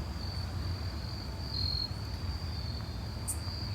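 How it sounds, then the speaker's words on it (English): Crickets chirping in trees on a cool early-fall evening near the sea: a steady, high, continuous trill runs throughout at moderate volume over a low rumble of background noise, with no talking. "Hear the crickets?"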